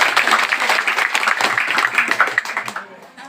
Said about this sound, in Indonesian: kami persilakan tepuk tangan untuk Penghalang Gila